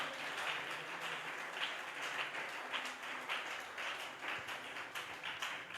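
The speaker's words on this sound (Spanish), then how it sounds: "Levanta ese aplauso a Cristo el Señor." A church congregation applauds, a sustained, even wash of many hands clapping, somewhat distant and moderately loud, with no speech on top.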